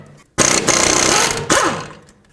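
Power tool, likely an impact wrench, spinning out 14mm brake caliper bolts on a 2005-2009 Chevy Equinox, two close loud buzzing bursts with a short break and a winding-down whine.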